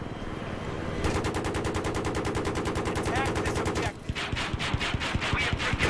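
Rapid automatic gunfire in Battlefield 3 on Kharg Island, dense repeating bursts that stay loud and close almost throughout, shifting to a sharper volley near the end.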